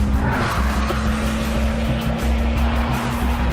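A Porsche 911 Turbo S driving fast with Sport Response overboost engaged, its engine roaring loud and steady throughout, with a sustained whine and rushing road and wind noise, no voices.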